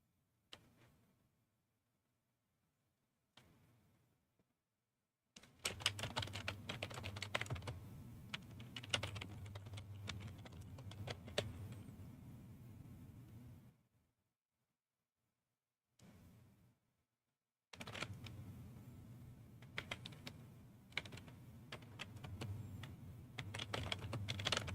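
Typing on a computer keyboard comes in long bursts of rapid, close key clicks, broken by a few silent gaps and brief isolated taps.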